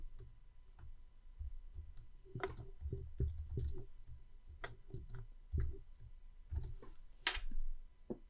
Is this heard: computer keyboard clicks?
yes